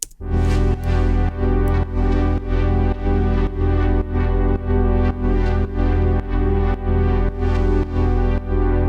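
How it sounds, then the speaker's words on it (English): A deep, loud synthesizer sub bass pulsing in a steady repeating rhythm, with a bright layered tone on top and no voices. "With our sub bass, pretty simple,"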